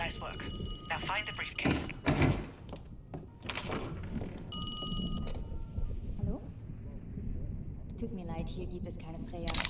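Telephone ringing inside a 1981 Berlin apartment in Call of Duty Black Ops Cold War, a few short electronic bell bursts among game thuds and ambience, with voices talking throughout.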